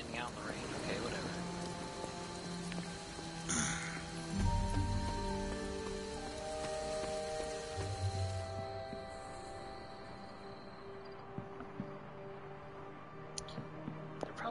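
Rain falling in the video game Midnight Suns, a steady hiss of drops under game music and ambient tones, with brief louder effects partway through and no voices heard.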